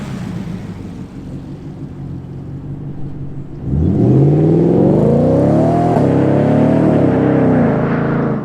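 A Ford F-150 Raptor R pickup engine idles with a low rumble, then revs up hard into a loud, sustained roar that rises and falls in pitch, close by with no talking.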